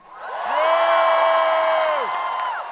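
A comedy-club audience at a Taylor Tomlinson stand-up show breaks into loud, sustained cheering and whooping, a big crowd roar swelling and holding for a couple of seconds.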